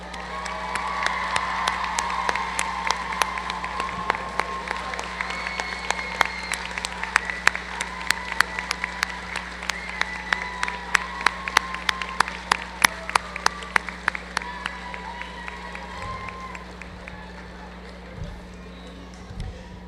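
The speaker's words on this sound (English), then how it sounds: "graduates, let's applaud your family and friends" A large community college commencement crowd claps steadily for family and friends, sharp individual claps standing out over a hall murmur and a low steady hum, with voices in the room, fading toward the end.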